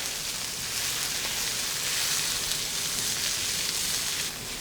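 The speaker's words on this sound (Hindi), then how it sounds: "ज़ीरे को मैं लहसुन के साथ भून लूँगी।" Cumin seeds frying with garlic and onion in a hot pan give off a steady, dense sizzle that stays loud and even for the whole stretch, with no voices over it.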